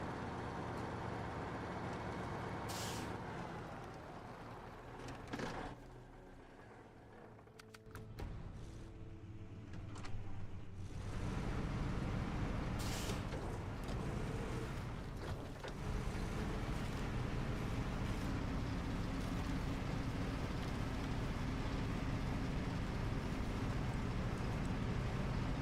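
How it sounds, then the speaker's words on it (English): Heavy truck engine droning steadily in a PS5 driving game on a rough road, loud and continuous with a brief dip in the middle, then a rising roar; no clear air-brake hiss stands out. "Certainly like the sound that this truck makes."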